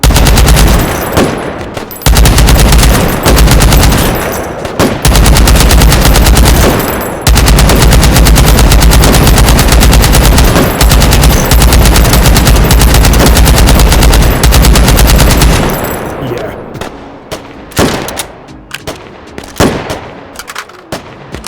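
Shotgun fire on an indoor qualification range in the H3VR virtual-reality game: dense, loud gunfire that barely pauses, then thins into scattered separate shots with gaps of quiet near the end.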